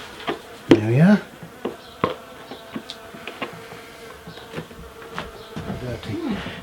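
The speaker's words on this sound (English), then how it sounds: "I can hear some bees have come in because they want to" Honeybees drawn indoors by the smell of honey during honey processing buzz in short passes near the microphone, loudest early on, with faint clicks and soft background noise between.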